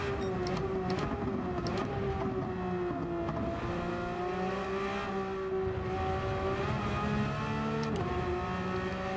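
A Porsche 992 engine in Gran Turismo 7 at Monza, droning loudly and continuously with steady revving and pitch shifts through gear changes.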